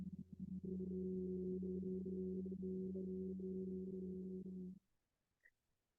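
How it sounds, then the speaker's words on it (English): A person hums steadily on a slow exhale during a calming breathing exercise, one low sustained hum lasting several seconds, soft and close, fading into silence. "and then exhale in a humming sound."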